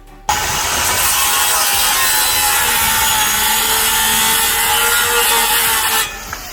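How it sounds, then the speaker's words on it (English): A wood chisel cuts out wood beneath a small roof during a concrete front porch makeover, producing a loud, steady, rasping grind that runs without a break for about six seconds and then stops abruptly. "Here I'm just using a wood chisel just to chisel it out before we go ahead and jack it up"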